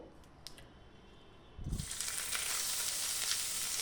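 Sabudana roll ingredients hit a hot pan with a sudden loud sizzle after a quiet start, and the frying hiss keeps going steadily to the end.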